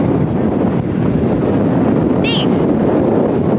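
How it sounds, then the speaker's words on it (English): Strong wind gusting across an open frozen lake, roaring into the microphone as a constant heavy rush, with a brief spoken remark over it. "It's windy."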